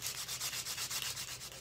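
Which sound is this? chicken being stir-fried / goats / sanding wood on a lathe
sanding wood on a lathe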